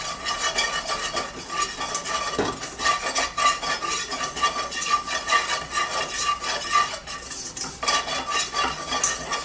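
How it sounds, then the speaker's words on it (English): Flour cooking into a blonde roux in a pan for Salisbury steak, stirred continuously with a utensil scraping the metal, a steady busy scrape and clatter close by with a soft sizzle underneath, no voices. "So you're just going to cook the flour until it's sort of a blonde roux"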